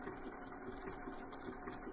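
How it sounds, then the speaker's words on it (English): A BERNINA sewing machine runs slowly through quilting, sewing a hand-look quilting stitch, giving a quiet, steady mechanical whir with a soft repeating pulse and no talking. "Do a little sewing."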